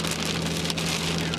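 Heavy rain falls during a July 2010 storm chase near Merriam, Johnson County, heading toward I-35, a loud, steady, close drumming roar with a low rumble underneath and no voices.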